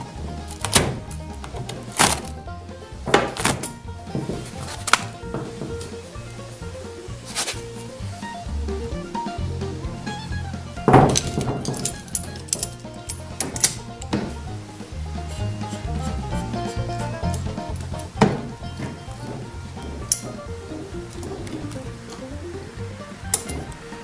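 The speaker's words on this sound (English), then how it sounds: "Now I'm going to have to get a pair of vice grips. Snap off this outer layer of plywood." Vise grips snap the outer plywood layer off a boat transom during repair work. Sharp cracks, dull thunks and small metallic clinks come at irregular intervals, fairly close, with no talking.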